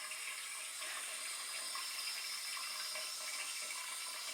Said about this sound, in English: you don't have a lot of pressure coming through this because of the design of the faucet